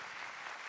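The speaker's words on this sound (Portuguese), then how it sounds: "Uma salva de palmas pro Kaique." Applause from a comedy talk show audience: a dense, even wash of clapping, brief and steady.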